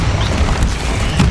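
Spell explosions from Bombarda and Confringo in Hogwarts Legacy, a dense run of low, rumbling booms in rapid succession, loud and continuous with game combat noise.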